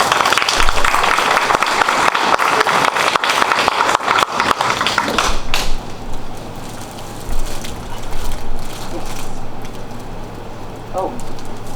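Audience at a county dairy princess pageant applauds loudly with dense clapping for about five seconds, then the clapping thins and fades while voices murmur in the room.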